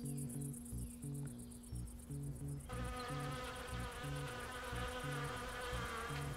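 A dense, continuous buzzing of many swarming bees near their hive fills the air, steady and fairly loud, with a low repeating tone underneath.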